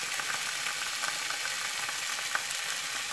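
Beets and onions fry and caramelize in a pan with a steady, close sizzle and faint crackles, continuous throughout with no talking.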